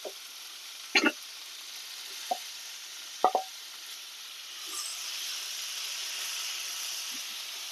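Boiled broad beans tipped into a hot pan raise a soft, steady sizzle, with a few sharp clatters and plops near the start before the frying hiss settles.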